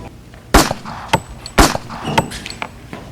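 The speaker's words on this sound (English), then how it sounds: "I heard gunshots." Two sharp, loud gunshots crack close by in a one-act stage play, followed by a few lighter metallic clanks and knocks.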